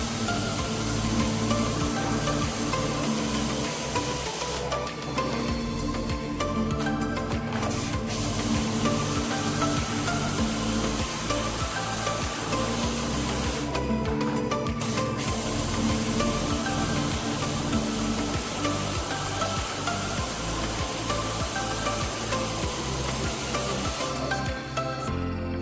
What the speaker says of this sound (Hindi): अब मैं इस कूलर को प्रेशर वॉशर जेट से धो रहा हूँ।